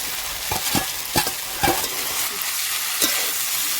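Prawns are tossed into a pan of frying chicken and stirred, a bright continuous sizzle broken by several spatula scrapes at irregular intervals.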